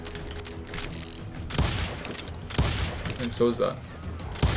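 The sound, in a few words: gunfire in Call of Juarez: Gunslinger video game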